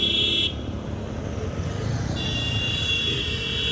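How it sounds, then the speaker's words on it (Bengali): City street traffic rumbles steadily while a car horn blares in long sustained honks, cutting out briefly and then sounding again. "এটা হচ্ছে শহরের রাস্তা"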